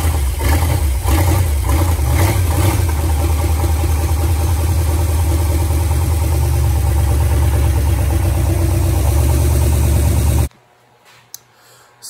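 A Mopar car engine with electronic ignition and no ballast resistor cranks and then runs loudly and steadily for about ten seconds before cutting off abruptly.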